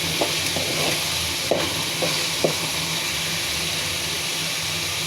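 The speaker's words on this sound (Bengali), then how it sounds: "মশলাটা সুন্দর করে কষিয়ে নিতে হবে, তাহলে আর কাঁচা ফ্লেভারটা থাকবে না" Spice paste with turmeric and chili powder sautés in hot oil, a dense, even sizzling hiss close by, with a few sharp clicks of a stirring spoon against the pan.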